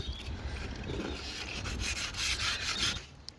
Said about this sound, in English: We are scratching up the surface to give the new paint a surface that it can adhere to.